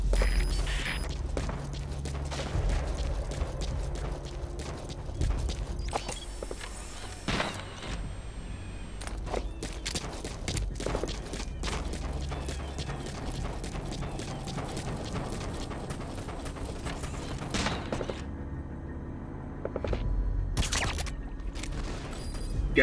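Gunfire from the video game Metal Gear Solid V: The Phantom Pain, a steady stretch of sharp shots and mechanical clatter over a constant low rumble, with brief bursts recurring throughout.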